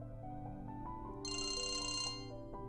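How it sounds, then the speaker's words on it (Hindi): A telephone rings with a congratulations call, one bright electronic ringtone burst of about a second over a low, steady indoor hum, fairly clear and near. "देखो यार, एक फोन बधाई का"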